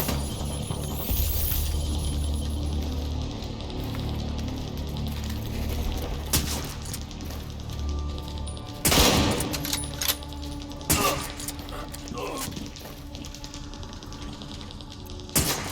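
Video game gunfire: sporadic shots and short bursts crack out across a quiet background, several sharp loud reports clustered near the middle and end, with a slow rate of fire between them.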